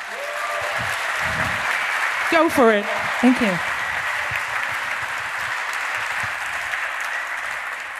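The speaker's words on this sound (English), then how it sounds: "please give her a warm round of applause" Conference audience at SHA2017 applauding to welcome a speaker, steady clapping throughout, with a few brief spoken words from the stage in the middle.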